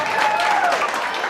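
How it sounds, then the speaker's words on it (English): An audience at a comedy magic and hypnosis show gives a short burst of steady applause that carries on evenly throughout. "Big round of applause for him."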